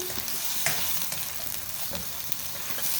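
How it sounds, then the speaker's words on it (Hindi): Sliced onions browning in a pan over a medium flame give off a continuous close sizzle, with occasional light clicks and stirring taps over it. "प्याज को हम मीडियम फ्लेम पर ब्राउन करेंगे"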